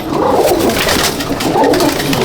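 Pigeons coo in a loft in Jangipur, Murshidabad, a close, loud layering of soft throaty rolling calls that swell and fall continuously.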